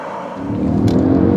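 Mercedes ML 63 AMG with a 5.5-liter V8 pulling away, a loud, close engine note that builds steadily in a low rumble over a second and a half, with no voices.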